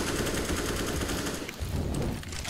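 Pistol gunfire on the Train map in Counter-Strike, a close, rapid string of sharp shots crackling almost without pause over a dense background, with a short lull midway and no voices.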